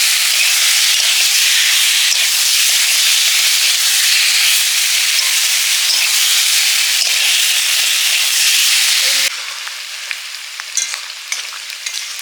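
Pointed gourd (potol) fries in a pan with a loud, continuous sizzle and crackle that holds steady for a long stretch, then drops to a softer, sputtering fry.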